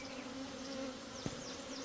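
A swarm of honey bees buzzes steadily and close, a dense continuous hum with individual bees whizzing past.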